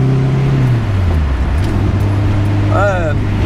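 A Renault R8 Gordini drives along with its engine droning steadily from inside the car, the pitch sagging and then settling as it changes gear, while someone talks over it.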